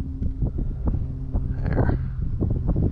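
Steady wind gusts buffet the microphone outdoors while an Arrows SZD-54 RC glider is flown, making a continuous close, low rumbling roar with no speech.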